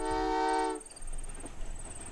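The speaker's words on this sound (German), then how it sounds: "Wir warten auf den Zug." A train in the video game Old Man's Journey sounds a loud, sustained horn for under a second, followed by a softer rumbling rolling noise.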